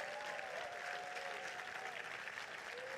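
Sustained applause fills a hall at an SPD rally in Hannover for city representatives in the Lower Saxony state parliament, with steady far-off clapping and a few whistles or cheers over it.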